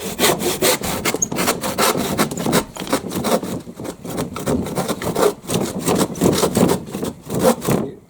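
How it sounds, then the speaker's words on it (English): A handsaw cuts through a wooden lap fence panel in rhythmic strokes, about two per second, with close, rasping pushes and pulls that stall briefly midway before the sawing resumes steadily. "And even if you angle the saw down at a shallower angle like that, it makes it slightly easier, but it's still quite difficult."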